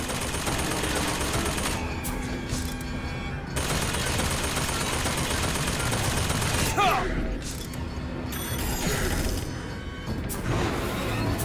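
Rapid machine gun fire in the Bioshock Infinite video game, loud and sustained bursts with crashing impacts, under a continuous dense wash of battle noise while a player talks over it.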